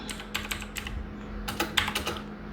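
Code is typed on a computer keyboard in quick, uneven bursts of close, crisp key clicks separated by short pauses, with a faint steady hum underneath and no talking.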